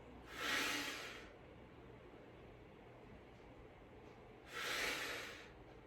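Two forceful breaths blown out during a standing beginner weight-training exercise, one near the start and one near the end, each a loud breathy hiss lasting under a second, with quiet room tone between.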